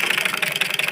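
A sewing machine stitches the pocket opening of a men's kurta, giving a quick steady mechanical patter of needle strokes, close and loud with no voices.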